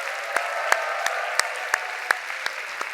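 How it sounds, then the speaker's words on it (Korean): A church congregation claps loudly together during a Sunday service, producing a dense, steady wash of applause with sharp individual claps popping through at regular intervals. "박수 좀 세게 쳐보세요."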